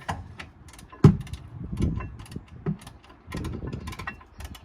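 Bolts going back into the rear brakes of a Saab 93 after cleaning and thread lock, heard as close metallic clicks, ratcheting and clunks, with one sharp knock early on over a low workshop rumble.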